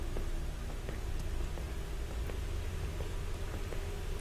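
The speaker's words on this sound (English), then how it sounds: "Probably the rain" Steady rain falling during a storm in a video game, a constant broadband hiss with faint scattered drop ticks, heard alone at an even, moderate level.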